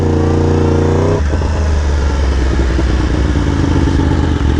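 A Yamaha R1M sport motorcycle revving loudly under the rider, the engine note dropping sharply as a gear is shifted, then a steady rough roar continuing close to the microphone.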